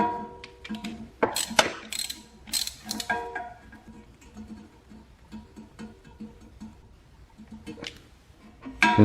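Plug going into the regulator of a DEWALT D55168 air compressor during a leak repair, heard as a series of close mechanical clicks and ratcheting snaps in bursts, with no talking.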